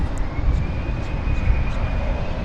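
An airliner departing DFW Airport gives a broad, steady roar of jet engines at moderate distance, holding constant with a faint high whine over it.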